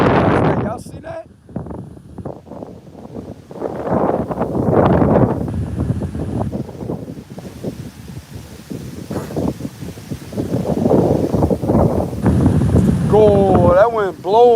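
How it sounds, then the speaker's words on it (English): Strong wind blows outdoors, a steady rushing roar that buffets the microphone and swells and eases, heard under someone talking throughout. "that wind blowing, boy"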